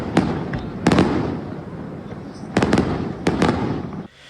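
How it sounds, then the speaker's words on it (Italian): Fireworks at the Sferracavallo festival in Palermo, sharp loud explosive bursts arriving in clusters of two or three between stretches of crackling rumble and crowd noise. "I fuochi d'artificio hanno calato il sipario sulla festa di Sferracavallo a Palermo"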